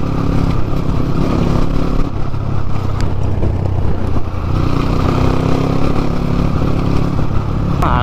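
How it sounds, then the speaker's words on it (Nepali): A dirt bike engine roars loudly and continuously up close as it rides slowly through a busy market area, with a rough, steady drone that dips briefly midway before picking up again. "अलिकति हल्ला बेसी हुन्छ बाइकको"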